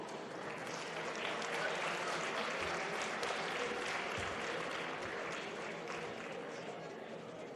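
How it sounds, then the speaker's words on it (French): Sustained audience applause at a French business awards ceremony, a steady, dense wash of clapping from a large crowd that holds at an even level throughout with no talk over it. "Merci à tous les deux, sous un tonnerre d'applaudissements."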